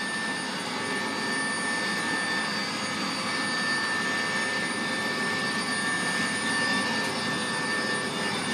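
Constant loud engine whine and rotor roar fill an enclosed military special forces helicopter cabin, a steady unbroken drone with a high tonal hum running through it.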